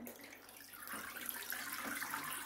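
Water drains from a disconnected homebrew sparge hose after its hose lock connector is pulled off, a steady trickling and splashing flow that grows slightly fuller partway through, close by and with no talk.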